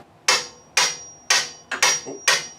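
Hammer striking during a dry fit, six sharp, loud, evenly spaced blows with a brief ringing decay after each, heard close and alone.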